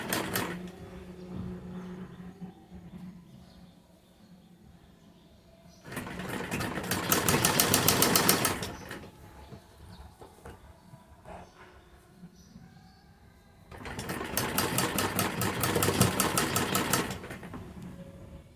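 Two bursts of a sewing machine attaching a kurti sleeve, each a fast close needle clatter lasting a few seconds, with quiet handling between runs.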